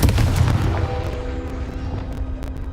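Confringo explosion spell cast in a Harry Potter video game, a single booming blast with a deep rumbling tail that decays steadily over a couple of seconds, heard alone.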